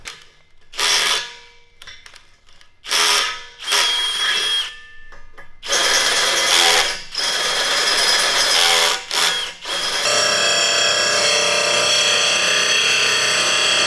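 A power drill bores into metal while a storage rack is being built: short bursts of whining and grinding start and stop, then the drill runs steadily and loudly through to the end.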